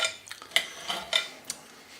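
Knife and utensils clinking against a plate or board while smoked boneless pork ribs are cut up, with a few sharp metallic taps and scrapes close by and no talking.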